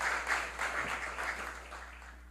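Applause at a municipal council plenary session honouring a guest, a steady crowd clapping with individual claps pulsing through, moderately distant and slowly fading over a constant low hum.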